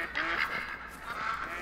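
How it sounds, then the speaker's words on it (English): A mallard duck in the hunting game theHunter: Call of the Wild gives a quick run of nasal quacking warning calls, moderately loud and slightly distant, with no talk. "Oh, the mallard's giving me a warning call."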